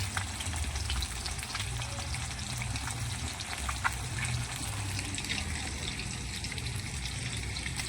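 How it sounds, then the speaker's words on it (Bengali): Fish frying in oil in a home kitchen during a Vishwakarma Puja day of cooking, a steady dense sizzle with crackle and spitting, close and loud throughout, no talking. "মাছ ভাজা চলছে।"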